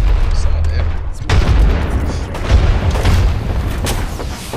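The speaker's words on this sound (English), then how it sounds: "They're throwing grenades." Grenades going off in a shooter video game: several loud, deep booms and bursts close together, one heavy blast near the start of the stretch, with dense crackling debris between them.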